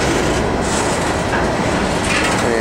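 Norfolk Southern 69R, a freight train of empty rock cars, rolls past close by with a loud, continuous rumble and rattle of wheels and wagons.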